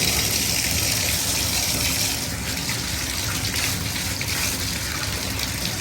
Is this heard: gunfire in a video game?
no